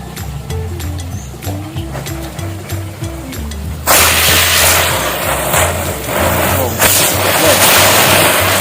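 Four spinning top firecrackers set off in a wok outdoors, a rising whistle and hiss building into a loud, dense crackling roar that continues steadily, close by.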